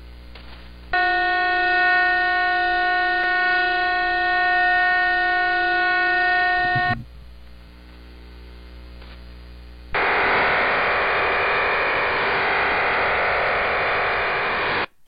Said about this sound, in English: So these are actually Cuban spy stations reading off encrypted messages.